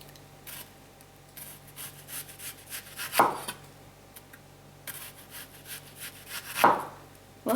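A non-serrated knife slices salad vegetables as thin as possible on a board, giving soft repeated cuts with two sharper clacks about three seconds apart.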